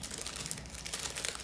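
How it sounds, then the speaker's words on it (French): A small individual plastic bag crinkles quietly and closely as an action figure's leather coat is unwrapped, giving a soft, continuous rustle with brief crackling peaks and no talking. "bien protégé dans un petit sac plastique individuel"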